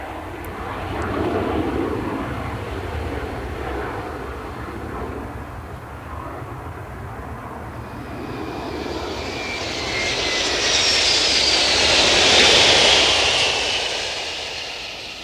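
A Scandinavian Airlines airliner flies overhead, its engines giving a steady broad roar that swells to a louder, hissing peak as it passes near the end, then begins to fade; no voices.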